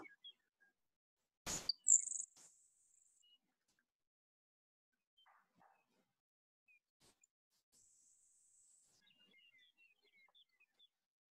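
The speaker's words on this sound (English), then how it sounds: "we're listening to a grasshopper sparrow" A thin, high insect-like buzzing song of a grasshopper sparrow, delivered twice with a long pause between, faint against a quiet background, after a sharp click near the start.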